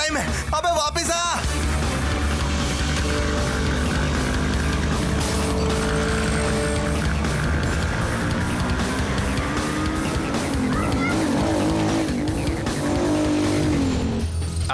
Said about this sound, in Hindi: मेरी गाड़ी कहाँ लेके जा रही है?